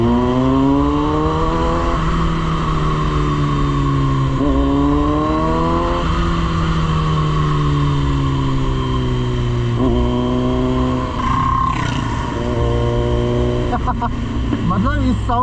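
A Kawasaki Z900 motorcycle engine revs steadily up and down on a local ride, with loud, continuous rising and falling harmonic tones. Speech is present throughout.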